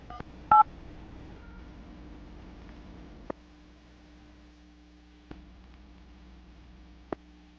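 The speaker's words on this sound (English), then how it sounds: "going to call her right now, get her on the phone" Telephone keypad tones sound while calling someone: a short cluster of quick beeps at the start, followed by quiet line hum and a few sparse clicks, with no talking.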